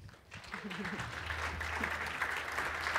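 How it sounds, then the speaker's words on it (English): Conference audience applauding presenters at a tech accessibility event, a broad steady wash of clapping that builds after a brief quiet start and holds fairly loud throughout, with faint voices mixed in. "Give them a round of applause, please."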